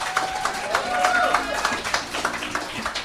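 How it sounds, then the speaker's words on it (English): Audience applause for poet Samantha Melia at a poetry club in Perth, a dense patter of clapping hands that holds steady through the clip with some murmuring in the room. "So give her applause"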